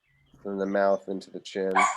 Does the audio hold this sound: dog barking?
yes